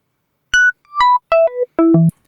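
An FM synth voice, a sine wave frequency-modulated by two other sine operators, plays four bright, bell-like notes stepping downward, each with a short echo tail, clean and alone.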